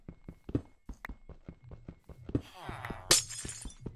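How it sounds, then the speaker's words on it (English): Glass pane shattering in a village-life video game, a sharp bright crash about three seconds in, over steady game footsteps and background music, with a brief swelling sweep just before the break. "that glass pane sound is pretty intense"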